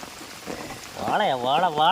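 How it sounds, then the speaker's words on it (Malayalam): Heavy rain pours down over a flooded house front during net fishing, a constant broad hiss that is soon overlaid by a person speaking close by. "നല്ല ഇടിച്ചു കുത്തി മഴയത്താ ഞങ്ങള് നിന്ന് എടുക്കുന്നത്"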